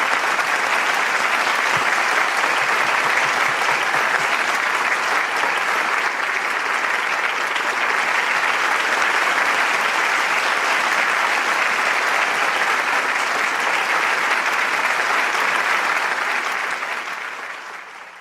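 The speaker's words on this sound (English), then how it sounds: "Let us give another thunderous round of applause to the little angels for their beautiful performances" A large audience at a youth blessing festival gives a long, thunderous round of applause for a children's performance, dense, steady clapping holding at full strength for about seventeen seconds before tapering slightly at the end.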